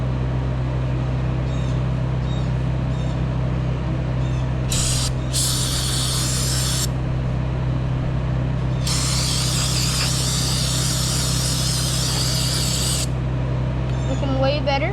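Brake cleaner sprays onto the brake of a 1982 moped in two bursts, a short hiss followed by a longer one, over a loud steady low hum in the background.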